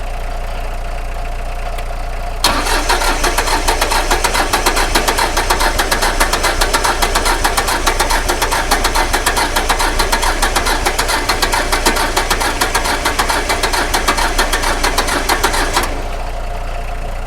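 A small Iseki tractor's diesel engine catches after a quiet moment and runs with a loud, rapid knocking chug close by, steady and unbroken until it cuts off near the end.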